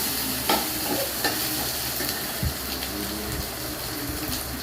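Sliced onions and ginger frying in hot oil in a pan, with a loud continuous sizzle close by and occasional scraping stirs of a spatula cutting through it, no voices.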